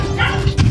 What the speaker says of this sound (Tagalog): Ang ingay dito guys. Ito mga aso ang kukulit.